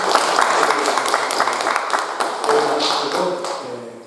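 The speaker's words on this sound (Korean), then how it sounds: "사랑의 하나님 박수 한번" A church congregation applauds to welcome a visiting elder during a Korean worship service, a dense, moderately loud patter of hand claps filling the room and gradually thinning out.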